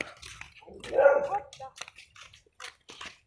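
A dog gives a short bark and a few yips at a moderate distance while people talk over it outdoors.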